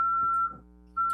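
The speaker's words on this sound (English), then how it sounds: "Pardon the beeping, everyone." A security system beeping during a parks and recreation commission meeting, a sustained electronic tone that cuts off briefly and then starts again, clear and steady with a faint murmur beneath.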